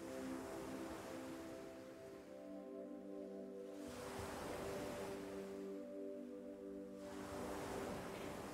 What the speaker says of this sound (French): Au rythme des vagues